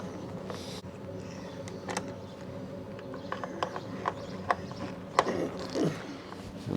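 A screwdriver loosens Phillips screws beneath the motor grill of a vacuum cleaner, with close mechanical creaks, ratchety clicks and small sharp ticks scattered over several seconds.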